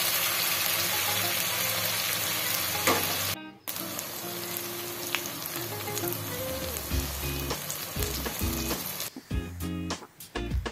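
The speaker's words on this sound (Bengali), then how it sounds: "এবার টমেটো কুচিটা দিয়ে দেব।" Chopped tomato sizzles and fries with chicken in a hot pan for capsicum chicken kosha, a steady close crackle with a brief dip and occasional stirring clatter, no voices.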